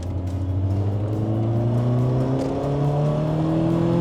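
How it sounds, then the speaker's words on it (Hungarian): A 1991 BMW M3 E30 four-cylinder engine revs steadily upward, its pitch climbing smoothly as it accelerates, loud and close with no speech. "Csak 4 hengeres, de hát könyörgöm, minden 4 hengeresnek legyen ilyen hangja"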